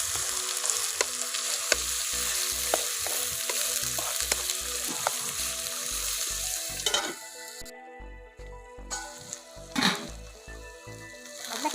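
Brinjal pieces frying in oil for vangi bath, a continuous bright sizzle with repeated stirring clinks and scrapes against the pan, plus a low rhythmic hum beneath, steady and close without speech.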